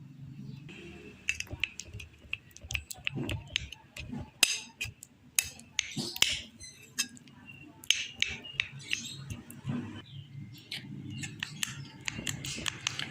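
Banana being mashed smooth in a bowl, soft squishing and scattered clinking taps of utensil on dish, faint and close, with quiet speech in the background.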